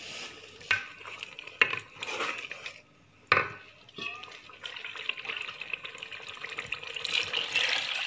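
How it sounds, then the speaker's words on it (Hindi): Black chickpea broth poured into a cooking pot, a few hard clunks of the vessel first, then a continuous close splashing, gushing pour that builds steadily, with no talking. "अब ये सारा इसका जो चन्नों का जो शोरबा था वो डाल दिया।"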